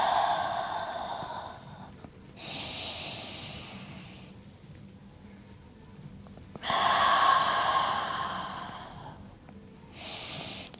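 Deep breaths drawn in and pushed out during a Pinilates-style mat exercise with arm circles, four long airy breaths alternating with quiet pauses, close and clear with no talking.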